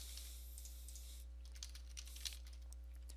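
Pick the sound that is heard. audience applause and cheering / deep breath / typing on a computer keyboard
typing on a computer keyboard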